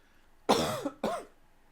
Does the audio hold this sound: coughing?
yes